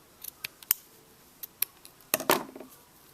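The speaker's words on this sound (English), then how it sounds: "I'm going to cut the excess off of the ribbon." Scissors close on a crocheted beanie's ribbon bow to trim the excess: a few light snips, then one louder, fuller cut, all near and quiet with no voices.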